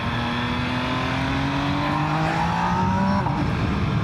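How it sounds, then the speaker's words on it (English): MV Agusta Brutale 800RR motorcycle on its factory exhaust, a steady loud engine drone with rising harmonic pitch through the gears, then a sudden drop near the end as it downshifts, with no voices. "Let's downshift, see if I can get a pop."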